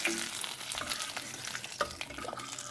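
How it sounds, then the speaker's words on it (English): Hot tempering mixed into moringa leaf dal: a soft, continuous frying sizzle with brief stirring clinks and one sharper knock, close and fairly quiet. "I'll put this tempering into the dal mixture"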